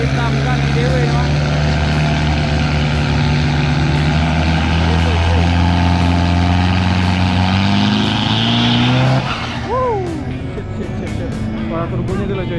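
Race car engine with a turbo at a racing event, a loud sustained roar rising steadily in pitch for about nine seconds before cutting off, then quieter engine noise and crowd sounds follow.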